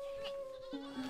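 Dairy goats kept by small-scale farmers in Zanzibar bleat in a single fairly clear call, a wavering tone that drops in pitch partway through, with steady background murmur.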